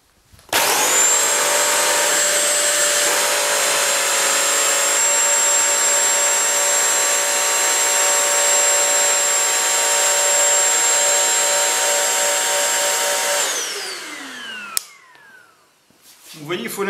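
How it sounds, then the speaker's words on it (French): A Bissell Crosswave floor cleaner runs with its brush spinning and no cleaning solution sprayed. It gives a loud, steady motor whine for about thirteen seconds, then winds down. "vous le mettez en route sans envoyer d'injection de produit, juste pour faire tourner la brosse"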